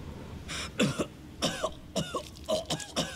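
A run of short, harsh coughs in quick bursts from a character in the video game The Evil Within, close and fairly quiet, with brief gaps between them and no speech.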